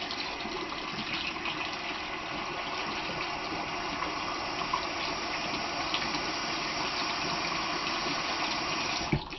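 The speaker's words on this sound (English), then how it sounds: "Excuse me, but I flushed my syringe really quickly." Water gushes and splashes steadily as a fountain pen filling syringe is flushed out, with a continuous running-water wash lasting throughout and ending in a brief bump.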